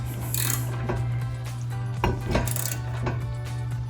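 A ratchet works against a threadlocked bolt on a Mustang EcoBoost rear brake caliper, giving several sharp metallic clicks and clanks over a steady low hum, with no talking.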